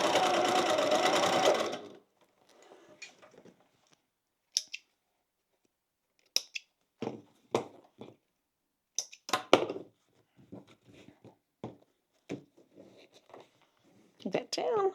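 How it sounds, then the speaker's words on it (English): After a brief burst of fast motor-driven stitching, a sewing machine falls quiet. The rest is faint, scattered clicks and handling of bag fabric and a zipper pull close by, with no talking. "we're going to sew down both of those"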